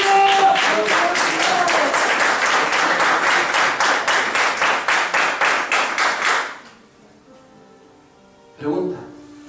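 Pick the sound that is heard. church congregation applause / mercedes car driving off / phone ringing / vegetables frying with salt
church congregation applause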